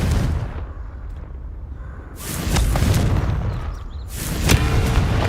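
A Confringo blasting curse goes off in a Harry Potter video game, with two loud bursts of booming explosion, each followed by a crackling, rumbling decay.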